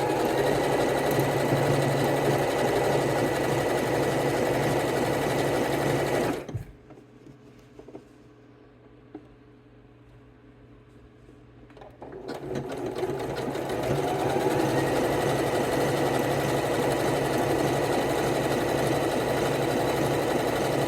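A sewing machine runs steadily, stitching fold-over elastic onto stretchy fabric. The loud, continuous whir stops for several seconds in the middle and then resumes at the same pace.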